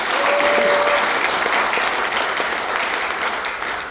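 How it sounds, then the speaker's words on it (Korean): Steady, full applause from a seated lecture audience honouring a councillor, a dense wash of many hands clapping together at close range, holding strong and only slightly easing over a few seconds. "우리 이강희 의원님께 다시 한번 큰 박수 부탁드리겠습니다"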